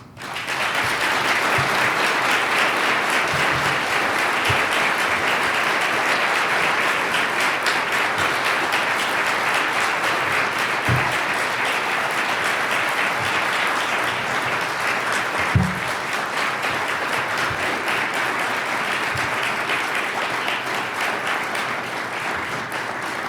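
An audience at a Winnipeg police chief's swearing-in ceremony applauds warmly, a steady, dense wash of many hands clapping that carries on for over twenty seconds with only occasional louder claps standing out.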